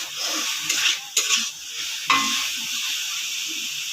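Tomatoes soften in a hot pan for chilli capsicum pasta, giving a soft steady hiss of steam and sizzle, broken by a few scraping stirs of a spoon against the pan.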